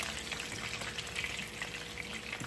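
Fish fries in hot oil with a dense, steady crackling sizzle, close and even throughout with no voices.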